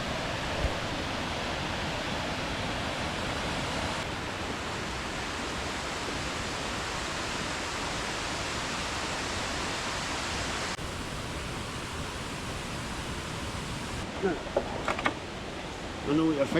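Waterfall in Alva Glen, a dense steady roar of falling water that fills the whole clip, broad and unbroken, with a few faint knocks near the end.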